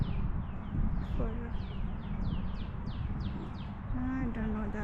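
A bird on a nature walking trail gives a run of quick, thin descending chirps. They sound fairly near, over a low outdoor rumble, with a soft voice murmuring underneath.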